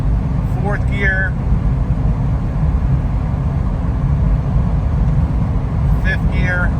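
A 2005 Jeep Wrangler TJ Rubicon driving on a rough, crowned road, its engine giving a constant loud low drone across the whole stretch with no obvious break for a gear change, and brief chirpy sounds rising above it.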